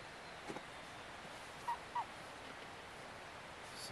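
Duck near a tent campsite in heavy rain, two short quacks or honks a moment apart over a steady hiss of rain, faint and somewhat distant.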